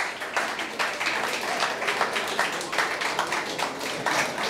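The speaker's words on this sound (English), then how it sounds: "You can actually clap." Audience at a mentalist and mind reader show clapping, a dense, sustained wash of applause at steady loudness with no pause.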